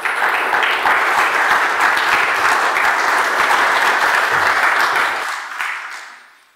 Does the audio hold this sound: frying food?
no